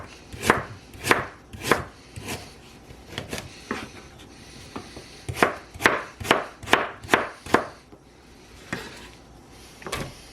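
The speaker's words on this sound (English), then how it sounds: "Then I can slice it." A knife slices through a halved white turnip set flat on a cutting board, giving a string of sharp, close chopping thuds in uneven groups with short pauses between them.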